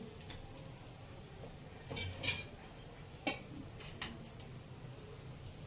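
A spoon clinks faintly against a pan a few times as half a spoonful of turmeric goes into hot oil with a pinch of asafoetida, sharp little taps over a quiet kitchen hush while cooking puffed-rice chevdo.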